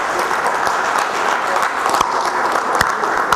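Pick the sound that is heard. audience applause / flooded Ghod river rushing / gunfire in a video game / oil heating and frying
audience applause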